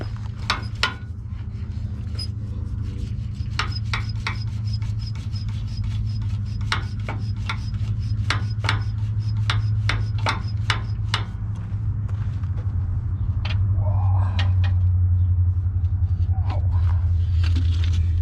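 Rusty bolts being pulled and worked loose on a rat rod, a series of sharp scraping clicks and ratchet-like taps over a steady low engine or compressor rumble, fairly close and loud.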